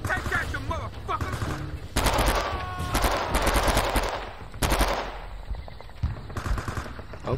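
Gunfire in the WWII video game Men of Valor: rapid machine-gun bursts and sharp rifle shots crackle in repeated volleys, loud and close, with brief gaps between bursts and some background game noise.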